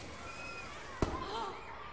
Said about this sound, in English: Fireworks. It definitely wasn't dynamite.